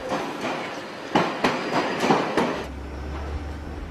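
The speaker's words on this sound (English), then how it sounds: "Today, Karen Jordan is driving a Northern Line train for the first time in 3 months." A London Underground Northern Line train rumbles along with rhythmic clattering wheel beats, then settles into a lower steady hum as the clatter fades.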